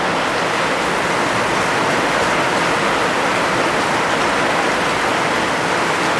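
Heavy rain pours down in a dense, steady hiss, loud and unbroken from start to finish, with no voices.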